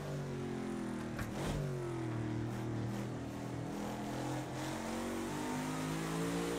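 Lotus 40 race car engine in a video game, night driving at the Nürburgring Nordschleife, a steady loud mid-pitched drone with rising and falling harmonic sweeps as it revs and shifts, alone with no talking.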